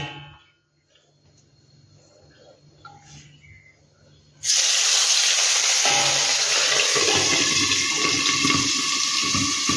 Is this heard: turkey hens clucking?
no